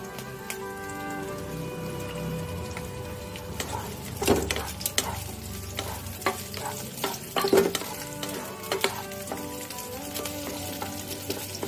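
Onions fry over low to medium heat for prawn dopeyaja, a steady soft sizzle punctuated by several sharp scraping and clanking stirs of a spatula against the pan, close and without talk.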